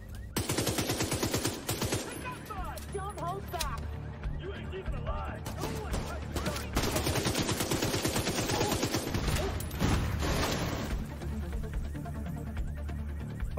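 Gunfire in the Xbox One video game Tom Clancy's The Division 2: rapid automatic bursts and single shots crackling repeatedly, loud and close, mixed with impacts, while someone talks over the action.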